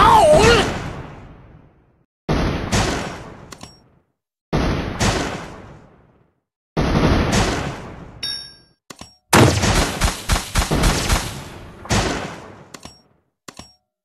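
Video game explosions and gunfire in a goblin battle round: a run of loud, sharp blasts in separate bursts, each decaying, followed by a rapid cluster of repeated shots and a final boom, with bright metallic chimes between them.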